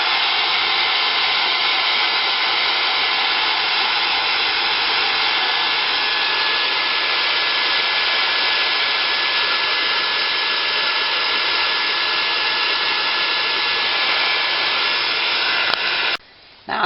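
A hair dryer blows steadily at close range, drying a fabric pin cushion being altered, one loud continuous whooshing drone that cuts off abruptly near the end, with no voices.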